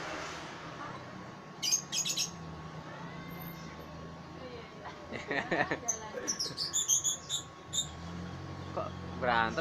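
A stray lovebird gives short, sharp chirps and tweets in scattered bursts, with a few trilling calls near the end, heard over a low background hum and occasional voices.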